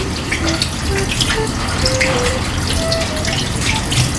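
Running water from a tap rinses hands after a handwashing routine, a steady broadband splashing that holds at an even level throughout.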